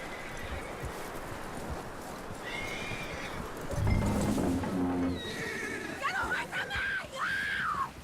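A horse neighs and whinnies with clip-clopping hooves in the Red Dead Redemption 2 video game, a loud drawn-out whinny mid-clip over a steady outdoor bed, with people talking nearby.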